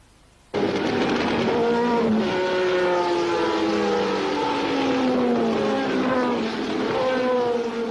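1970s Formula 1 cars racing at Brands Hatch, including a Ferrari flat-12 down on its full 500 horsepower: a loud, sustained high-pitched engine roar starts abruptly and holds, with overlapping engine notes sliding in pitch as the cars pass.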